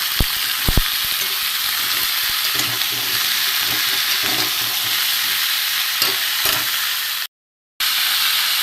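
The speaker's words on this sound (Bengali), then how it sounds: "কুমড়োর আলুটা আমি ভালো করে ভাজি" Pumpkin and potato pieces fry in a pan for a vegetarian dalna, giving a steady close sizzle and hiss with occasional stirring clicks and a short break of silence near the end.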